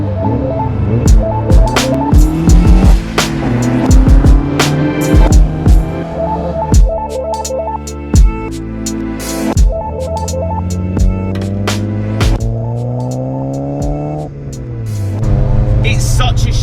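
A Ford Escort RS1600i on bike carbs driving, its engine note climbing and dropping through repeated gear changes, close and loud throughout, with a rough, throbbing character.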